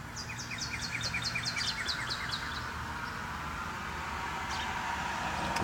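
Early morning birdsong played in reverse, a run of rapid chirps with rising sweeps in the first half, then fading to faint scattered calls over a steady background hiss.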